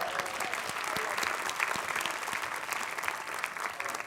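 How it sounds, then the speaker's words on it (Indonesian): A studio audience at an Indonesian talk show claps steadily, a continuous crackle of applause with a few sharper individual claps over it, lasting about four seconds with no speech. "Tepuk tangan sekali lagi dong untuk kasih"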